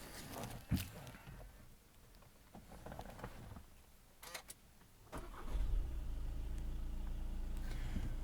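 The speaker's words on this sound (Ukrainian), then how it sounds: "Зараз буду запускати двигун і поступово робити огляд далі на цей автомобіль." A 2018 Volkswagen Tiguan with a 2.0 TDI diesel engine is started, a few faint clicks and shuffles giving way to the engine catching and settling into a steady, low idle.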